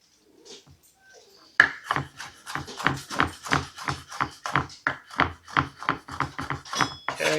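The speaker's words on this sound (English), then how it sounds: "we give them a run through with the knife" A knife chops tomato ends on a cutting board in a quick, even run of about fifteen crisp, close taps after a brief quiet start.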